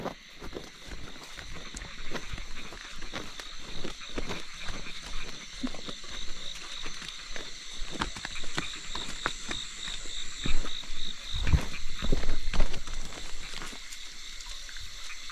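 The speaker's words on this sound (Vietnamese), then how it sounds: "cho nên là có ếch nhái kêu rất là nhiều." Frogs croaking in a rainy-season countryside setting, a dense chorus of repeated calls with insects and scattered nearby clicks and knocks, growing louder toward the end.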